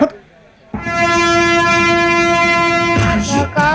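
A train passes with a long, loud, steady horn blast in a scene from the Telugu comedy film Venky. The horn holds for about two seconds, then rumbling wheels and a brief voice follow.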